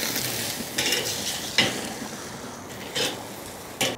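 Picanha searing on a Weber charcoal kettle grill, a broad steady sizzle with a few brief clinks and scrapes of tools, close and fairly loud.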